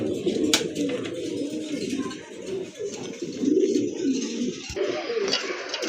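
Soft, repeated pigeon coos murmur throughout, low and steady, with a few faint chirps and rustles nearby; no one speaks.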